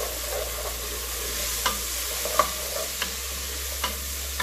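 Rice with pigeon peas being stirred in a pot, a low steady sizzle and hum under repeated soft scrapes and light clicks of a spoon against the pot, close by with no voices.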